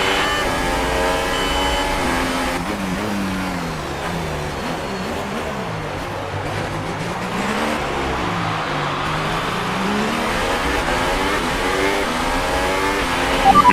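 An F1 race car engine from the F1 2018 video game, leaving the pits in a race, screams loudly and continuously. Its pitch rises and falls as it revs through the gears, with no talking.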